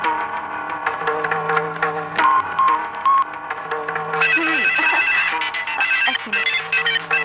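A telephone rings repeatedly in a Bangla movie scene, an electronic ringtone over background music and effects, loud and steady for several seconds.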